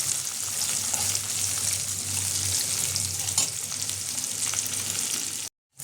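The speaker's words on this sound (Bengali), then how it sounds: "এটা একটু হালকা ভেজে ভাজবো আমি, হালকা, খুব বেশি লাল করবো না।" Steady oil sizzle of onions frying lightly in a pan for soya bhurji, close and continuous, with occasional stirring scrapes, then a brief silent gap near the end.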